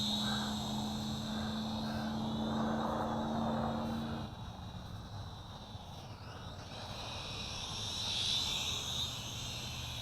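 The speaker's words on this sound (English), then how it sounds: "Flying around the field here. Excellent range on this quadcopter." Bo Ming M5-1 Galaxy quadcopter drone flying over a field at some distance, its propeller whine a steady, moderate drone that drops slightly in level partway through, with no talking.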